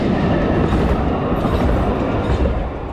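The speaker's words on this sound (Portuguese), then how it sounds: "Tem um evento aqui que o trem vai passar agora" A small train passes a level crossing in Tigre, Buenos Aires, with a loud, close, continuous rumble and a rolling clickety-clack of wheels that stays steady throughout.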